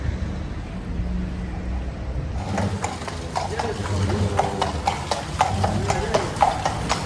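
Hooves of a horse-drawn carriage in Interlaken, Switzerland clip-clop in a steady close rhythm on the street after a quieter start, with people talking over the passing carriage.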